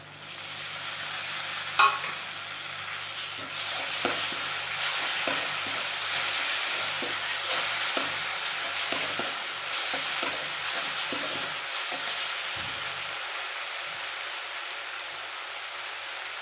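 Tomato puree and Kashmiri red chili fry in a pan for a cauliflower and peas curry, a dense steady hiss of sizzling with scattered sharp pops and spatters, close and uninterrupted by talk.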